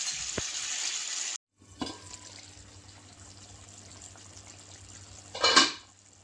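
Pieces of shol fish go into a pan of boiling spiced curry with a loud hissing sizzle. After a brief pause, quieter bubbling continues, and a short, sharp sizzling clatter comes near the end.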